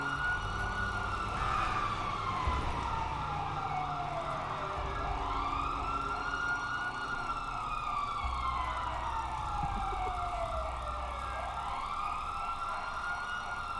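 Sirens in a GTA roleplay game wail continuously, rising and falling in long sweeps over a low rumble of traffic, loud and sustained with no talk.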